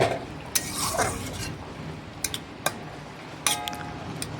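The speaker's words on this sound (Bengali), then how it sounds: "নাড়াচাড়া করে দেখে নিচ্ছি আলুগুলো সেদ্ধ হয়েছে কি না।" Boiled potatoes and okra are stirred in a cooking pot, with a soft, steady scraping texture and a few sharp metallic clinks of the spoon against the pot's rim.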